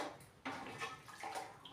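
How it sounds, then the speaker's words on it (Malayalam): Lemon-boiled water is poured into a washbasin in a few faint, broad splashing bursts, with short pauses between them and a louder splash at the end. "ഈ വെള്ളം നമുക്ക് വാഷിംഗ് ബേസിൻ്റെ അവിടെയൊക്കെ ഒഴിക്കാം"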